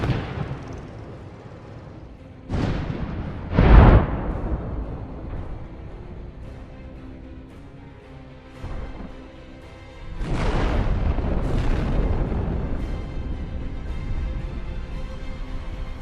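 An armored personnel carrier drives over mines during a failed attack, setting off several deep booming blasts spaced a few seconds apart, with a rumbling roar trailing after the later ones.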